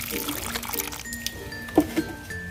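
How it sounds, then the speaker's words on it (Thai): Water pours onto the soil of a potted plant, a soft continuous trickle with a couple of brief splashy spots near the end, while quiet talk carries on underneath. "ลดน้ำให้ชุ่มเลยครับ ให้น้ำซึมไป ทั่วทั้งกระถางนะครับผม"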